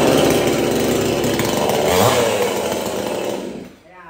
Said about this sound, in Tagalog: pag umandar na ang chainsaw